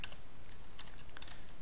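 Close keyboard clicks as a server name is entered on a Windows Server 2019 machine, a few sharp taps in an uneven rhythm over steady background hiss.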